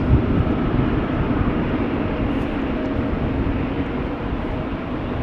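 Broad, steady jet roar from an EasyJet A320neo airliner taking off at Amsterdam Schiphol Airport, heard at a distance as a continuous rumble that holds level throughout, with no voices.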